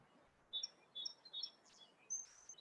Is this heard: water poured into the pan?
no